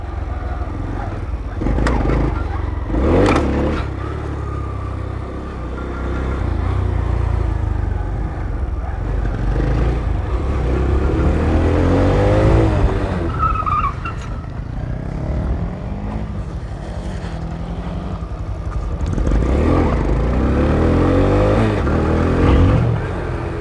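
Honda CBR 300 motorcycle engine revving and pulling while being ridden, a loud continuous drone that rises and falls with throttle and gear changes, mixed with wind rush, and brief speech in places.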